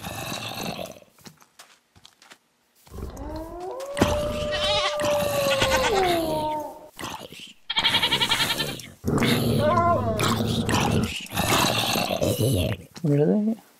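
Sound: goat bleating in Minecraft video game

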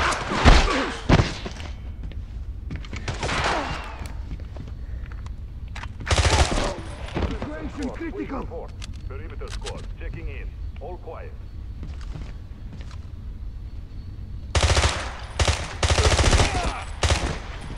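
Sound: gunfire in video game 007 Blood Stone

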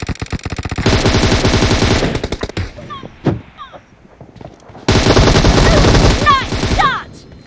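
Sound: gunfire in a video game (BMF squad TDM)

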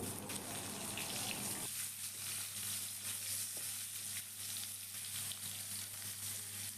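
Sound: potatoes frying in oil with salt

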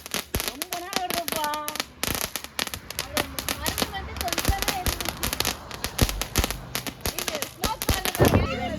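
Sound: firecrackers exploding

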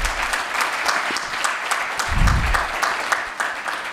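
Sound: audience applause at a conference keynote

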